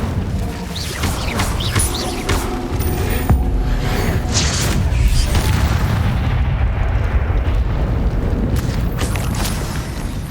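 Incendio fire spell cast in the PS5 game Hogwarts Legacy on Hard difficulty, giving a sustained loud roaring, booming burst of flame that holds for several seconds over dense, continuous battle noise.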